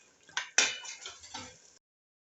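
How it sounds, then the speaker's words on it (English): Cooked beef being added to a pot for pilau, with a couple of sharp metallic clinks of utensil against pot followed by soft scraping and shuffling, brief and fairly quiet. "we will add the beef that we had cooked in the pot"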